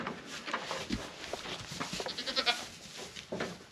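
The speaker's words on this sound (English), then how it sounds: "So this right here is a pretty goat right here." Goats on a spring homestead bleat repeatedly at close range, several overlapping calls rising and falling over a few seconds against light outdoor background noise.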